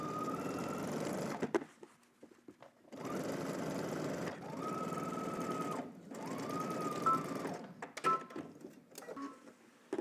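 A sewing machine stitches pockets with a 3/8 inch seam allowance, running in three long bursts separated by short pauses, with a rising motor whine and faint handling clicks, close and steady.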